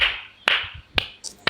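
Several sharp hand claps from a few people at a debate, spaced about half a second apart, close and fairly loud with no talking.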